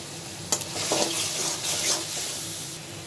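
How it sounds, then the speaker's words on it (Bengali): Spice paste of turmeric, chili, coriander and cumin frying in a pan for tengra fish curry, a soft steady sizzle broken by a few scraping stirs, close and fairly quiet. "আমি মশলাটা ভালোভাবে কষিয়ে নিচ্ছি।"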